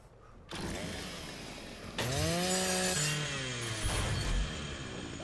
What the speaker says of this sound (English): Time we use that chainsaw for something good.